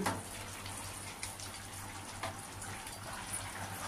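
Pieces of bhola fish simmer in a boiling spicy curry broth, giving a faint, steady bubbling hiss with small soft pops throughout.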